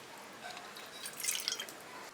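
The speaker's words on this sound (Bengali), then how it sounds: "এখানে আমি দুই টেবিল চামচ ভিনিগার নিয়ে নেবো" Vinegar trickles from a bottle into a tablespoon in a home kitchen, a soft, faint liquid splash close by with a few light drips and no talk.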